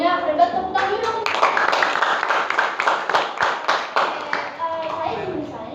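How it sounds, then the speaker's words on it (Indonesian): A group of junior high school students in a classroom panel discussion breaks into brief, close applause with rhythmic hand clapping lasting several seconds, mixed with a few voices. "Wah, jawabannya hebat, tepuk tangan dulu dong"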